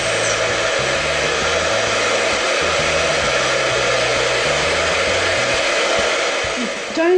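A heat tool blows steadily as it heats craft material until it melts, a continuous close whooshing drone with a low motor hum that runs for several seconds alone.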